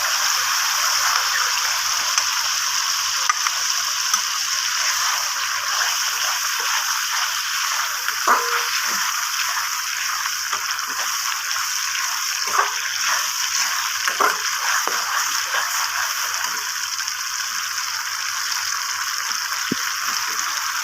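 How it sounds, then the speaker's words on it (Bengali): Steady sizzling hiss of cashew-raisin paste and masala frying in oil for paneer masala, with occasional faint pops and scrapes, constant throughout. "গাইস দেখুন আমার পেস্টগুলো কি সুন্দর করে কষানো হচ্ছে।"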